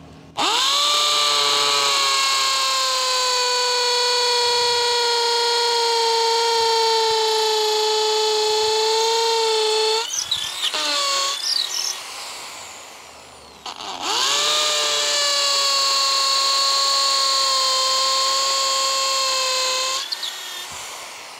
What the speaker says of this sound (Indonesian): Kita aktifkan impactnya dan ini mata bor bawaannya yang 10 mili ya kita tes ke beton